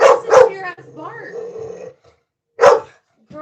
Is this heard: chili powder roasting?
no